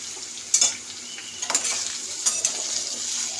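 Vegetables, including aubergine and spinach, sizzle in a hot pan for a Bengali palong sag chorchori while a utensil scrapes and stirs them in a few distinct strokes, heard close up with no talking.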